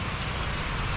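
Steady rain pours down outdoors over a vegetable field in a town, a loud continuous dense hiss with no pauses and no voices.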